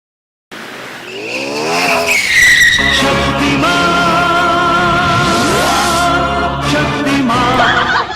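A car pulls away hard, its tires squealing and skidding loudly as the engine revs up close, the screech sliding in pitch for several seconds after a brief silence.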